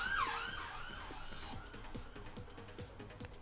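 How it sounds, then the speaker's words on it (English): An ambulance siren wails loudly at the start, its sweeping tone fading within the first second and a half, leaving a steady rumble of passing traffic with a faint rhythmic ticking beneath. "And there's an ambulance."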